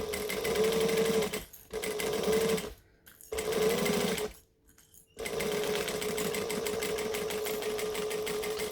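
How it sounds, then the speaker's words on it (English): A sewing machine stitches a seam in loud, rapid close-up bursts, pausing briefly twice between runs, then running steadily at the end. "I'm going to stitch it with everything facing up"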